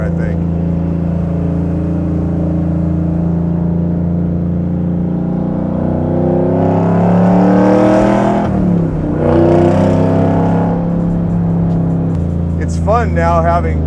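A 1967 Camaro pro touring build with a 700 hp LT4 engine drives past, its steady low rumble rising into loud revving pulls and then easing, with brief voices near the end.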